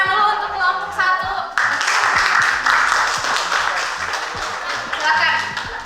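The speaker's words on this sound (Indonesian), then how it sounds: "Kasih tepuk tangan dulu untuk kelompok 1" A classroom of students claps for the first group before its presentation, a burst of applause that swells then fades, with a voice and background chatter underneath.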